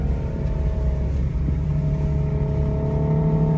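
Stock Infiniti G37X with no aftermarket exhaust or muffler, a steady loud engine rumble with a low droning note held throughout, close by and with no talk.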